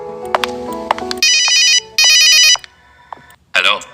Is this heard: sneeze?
no